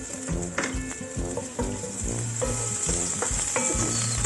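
Onion frying in oil in a pan, a bright sizzle running throughout, with tonal clinks and stirring sounds from utensils against the pan layered over it.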